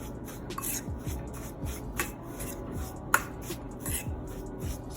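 Cheesecake crust crumbs being stirred together with melted butter in a bowl for a no-bake mini egg cheesecake, a steady soft scraping and rustling with a few light clicks of the utensil, fairly quiet and close with no talking.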